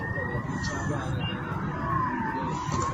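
A siren wails with a slowly sweeping pitch, sounding from a moderate distance over a dense bed of crowd and street noise, with voices mixed in.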